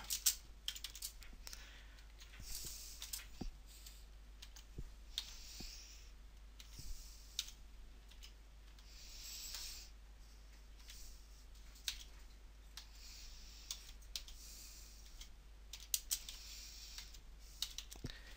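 Rapid typing on a computer keyboard, a steady run of close, crisp key clicks with irregular rhythm and occasional louder taps, over a faint constant hum with no voices.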